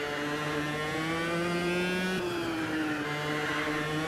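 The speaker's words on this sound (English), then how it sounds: "I like the sound of the car too, actually." Race car engine in the sim racing game Automobilista 2, a steady high-revving drone holding a near-constant pitch with a brief dip in the middle, loud and continuous with no talk.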